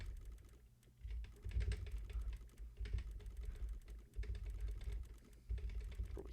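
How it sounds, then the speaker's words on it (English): Rapid, dense keyboard typing and button mashing on a computer keyboard during a game, coming in bursts with brief pauses, close and fairly loud, with no talking. "hear the keyboard"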